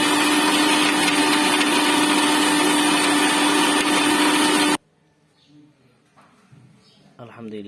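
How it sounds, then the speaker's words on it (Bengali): A blender whirring at full speed on green juice ingredients and chilled water, a loud, steady motor roar that cuts off abruptly, followed by faint handling clatter. "এখন আমি এগুলো আস্তে আস্তে ব্লেন্ডারে সব ঢুকিয়ে দিচ্ছি, তারপরে ইনশাল্লাহ ব্লেন্ড করব"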